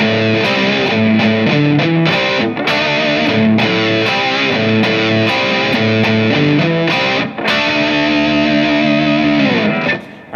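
Distorted electric guitar slowly plays the verse riff of a song, loud and sustained with chords repeating in a steady pattern and a ringing final chord.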